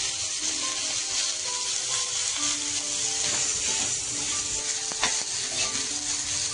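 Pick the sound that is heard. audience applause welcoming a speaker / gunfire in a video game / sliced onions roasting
sliced onions roasting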